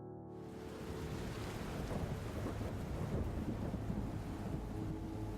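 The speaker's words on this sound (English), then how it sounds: "The weather in New Orleans is definitely stormy and humid." Heavy thunderstorm in New Orleans: steady dense rainfall with a deep, continuous thunder rumble, loud and close, with no voices.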